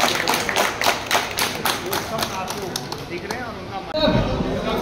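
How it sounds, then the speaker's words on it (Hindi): An audience at an association gathering for newly elected office-bearers of the Dharampur assembly executive claps loudly and in near unison, with quick rhythmic beats for about three seconds while people talk over it, then a thump. "तो जोर से तालियां सभी"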